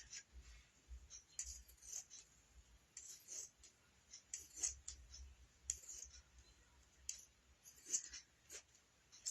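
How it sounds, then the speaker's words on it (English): Scissors snipping a sliver of blue material, a series of faint, close, crisp clicks and snips in irregular bursts over a quiet background. "I'm going to cut a sliver of it."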